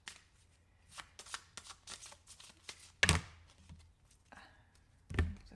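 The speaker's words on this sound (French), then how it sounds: "je ne les prends pas en compte, je ne les regarde pas, je continue de battre" A deck of cards is shuffled by hand for a card reading: a run of soft riffling bursts and taps in quick succession, close and fairly quiet, with two sharper, louder card snaps standing out.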